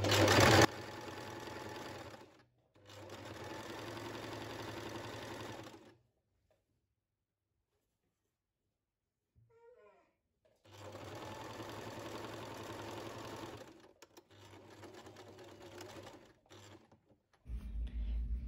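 A sewing machine stitching a sweatshirt seam runs in three steady whirring bursts of a few seconds each, separated by near silence and faint clicks, close and even-paced, with a final short burst starting at the end.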